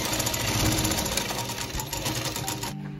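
A sewing machine stitches a joined fabric strip for a baby bonnet, a loud, rapid mechanical chatter running steadily before stopping abruptly near the end.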